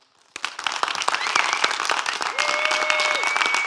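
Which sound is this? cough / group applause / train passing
group applause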